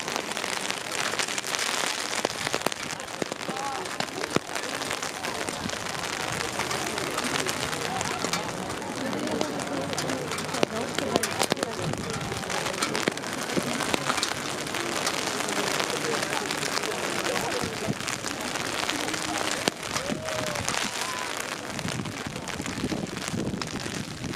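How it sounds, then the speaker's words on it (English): Steady broadband rain patter drumming on an umbrella at an outdoor college softball game, Saint Mary versus DePaul, with gusty wind noise on the microphone and occasional voices in the background. "My umbrella is starting to get a little soaked by this rain."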